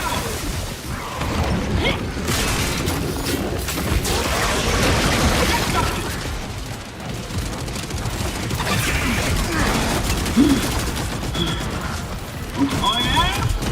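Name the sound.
grenade explosion and gunfire in a video game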